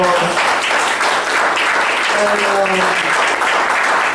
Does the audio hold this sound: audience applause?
yes